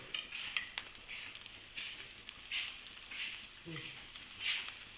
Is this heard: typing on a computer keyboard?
no